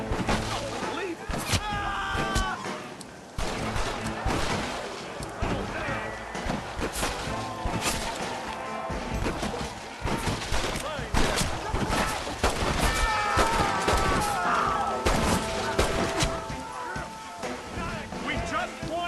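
Rapid, overlapping gunfire in a Red Dead Redemption shootout. Dense volleys of shots run continuously, with voices and other game sounds mixed in.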